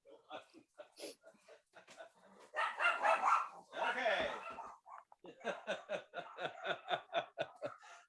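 Pet dogs barking faintly in a home during an interview, with a run of quick, evenly spaced barks after stretches of conversation that carry through the clip.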